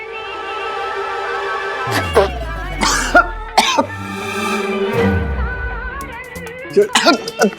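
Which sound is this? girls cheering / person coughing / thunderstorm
person coughing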